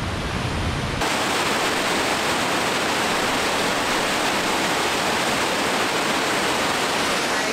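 A waterfall near Juneau, Alaska roars steadily and loudly at close range. Its dense, continuous rushing hiss fills the whole stretch, with no speech.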